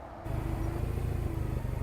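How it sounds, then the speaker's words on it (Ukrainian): A Yanmar 21 hp three-cylinder Japanese mini tractor's diesel engine chugs at a steady idle-like pace, fairly loud and close, with a constant low rumble. "Їде до нас ще один Янмар, 21 кінська сила, трьохциліндровий."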